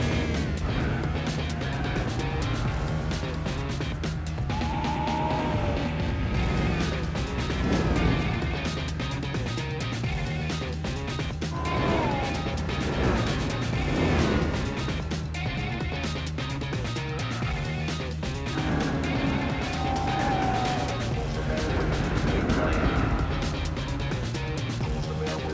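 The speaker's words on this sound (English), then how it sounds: "Let's quickly watch a couple of epic replay shots of fast BMWs on the Nürburgring" Fast BMWs race on the Nürburgring in Gran Turismo 4, with continuous loud engine roar, gear-shift pitch swings and repeated passes over nearly half a minute.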